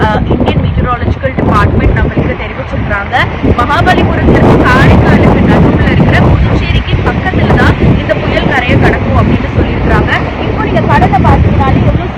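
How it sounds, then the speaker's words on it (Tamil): Strong cyclone winds roar and buffet the microphone at Pondicherry's Rock Beach during Cyclone Fengal, a dense, constant rushing blast over crashing surf, with a reporter talking throughout. "வீசுது காற்று வீசுது வந்து எழுபதுல இருந்து தொண்ணூறு கிலோமீட்டர் பர் அவர் ஸ்பீட்ல வந்து இந்த காற்றானது"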